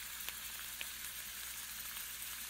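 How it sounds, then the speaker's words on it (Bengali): A paratha frying in ghee in a pan gives a soft, continuous sizzle with light bubbling crackles, even and unbroken throughout, with no voices. "এবার আমি 1 চামচ মতো ঘি দিয়ে পরোটাটাকে আরো কিছুক্ষণের জন্য লাল লাল করে ভেজে নেব।"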